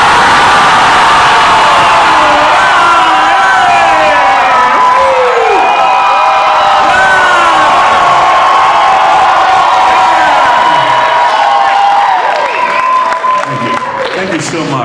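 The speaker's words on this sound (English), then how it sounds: "When I say scream, I want you guys to scream as loud as you possibly can." A large comic convention panel audience screams and cheers as loud as it can, a dense sustained roar of whoops and shrieks filling the hall for several seconds before tapering off.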